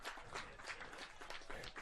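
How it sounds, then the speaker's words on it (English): A baseball crowd at a college game applauds as the Hurricanes' closer, Cole Garrett, leaves the mound after a relief appearance, giving steady, moderately distant clapping that holds evenly throughout. "round of applause"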